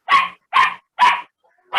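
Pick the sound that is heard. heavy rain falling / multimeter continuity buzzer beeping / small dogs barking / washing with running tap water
small dogs barking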